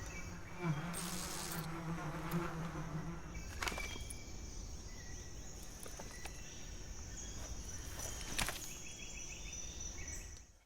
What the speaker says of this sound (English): The bugs are gonna run after the enemy